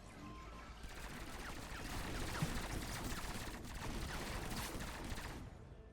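A turret fires in Fortnite Save the World, a dense, rapid stream of gunshots rattling steadily for several seconds at moderate level, then cutting off.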